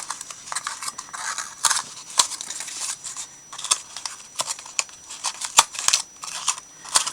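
Scissors snipping layered paper pieces for a Christmas craft embellishment, a string of sharp, close, irregular cuts with small handling rustles between them and no talking.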